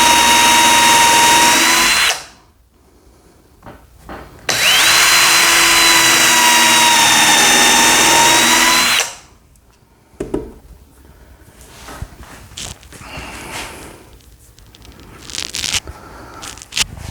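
A power drill drives 3-inch screws into a wooden wine rack in two loud sustained bursts, each a few seconds long, followed by quieter handling clatter and bumps.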